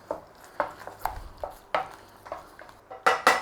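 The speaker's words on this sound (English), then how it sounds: "Get it stirred in." Sugar is stirred into a tomato paste sauce, heard as a series of distinct close scraping clinks of a utensil against the pot, irregular and spaced, with a couple of louder knocks near the end.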